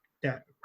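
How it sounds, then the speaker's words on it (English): Puppies bark and whine indoors in two short, close yelping bursts separated by a brief pause. "You can hear my puppies barking."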